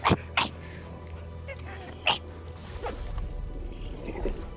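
A player at a Dungeons & Dragons session imitates a dog barking in character as a werewolf, giving two or three short, sharp vocal barks up close, with soft room noise and faint movement between them.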